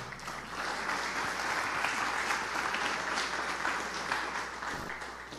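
A church congregation applauds the Lord during a gospel service, a steady, dense wash of clapping that holds at even strength throughout, moderately distant and without spoken words.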